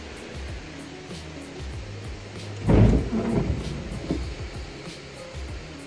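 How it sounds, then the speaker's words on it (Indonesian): Strong wind sweeps across a chili field lined with coconut trees, a low, rumbling roar with one heavy buffeting gust near the middle before settling back. "Anginnya kencang sekali."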